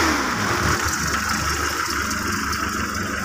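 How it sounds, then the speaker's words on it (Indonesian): An old 1982 Suzuki Jimny, type LG80, has its engine running steadily with a noisy mid-pitched hum and whir, loud and close, with no talk over it. "Ini bagian dari panel mesinnya udah agak kecil, ini agak suaranya agak berisik."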